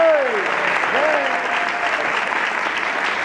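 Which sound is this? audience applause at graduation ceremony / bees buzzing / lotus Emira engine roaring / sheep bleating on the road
audience applause at graduation ceremony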